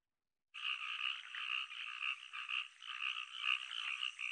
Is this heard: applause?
no